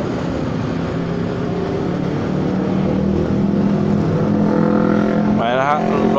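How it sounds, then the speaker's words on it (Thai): A loud vehicle with an open straight-pipe exhaust roars past a rider on a Honda Forza 300 scooter in rainy traffic. Its engine drone holds steady over heavy road and wind noise, then a brief rising whine comes near the end. "รถท่อโล่ง"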